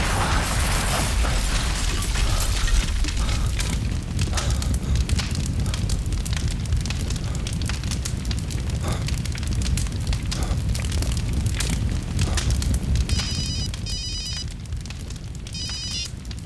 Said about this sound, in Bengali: ওরা বোম বিস্ফোরণে মারা গেছে?